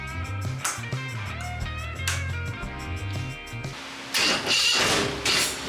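A carbureted early Harley Evo V-twin with points ignition runs at a loping idle, its uneven low pulses close and steady, followed by sharper bursts of mechanical clatter toward the end.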